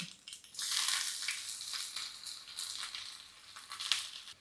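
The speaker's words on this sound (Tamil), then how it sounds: "இப்போ நான் சின்ன வெங்காயம் கருவேப்பிலையும் போட்டுடுறேன்" Shallots and curry leaves dropped into hot sesame oil for tempering, crackling and hissing in a bright burst that settles into a softer sizzle, close but fairly quiet.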